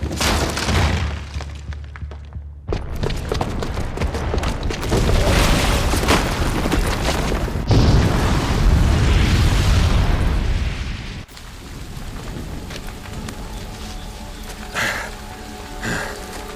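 A bomb detonates in the video game Horizon Zero Dawn Remastered, a loud broad roar and rumble with crackling, shattering debris that swells and then thins into a lingering patter of falling fragments.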